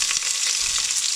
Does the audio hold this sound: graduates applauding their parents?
no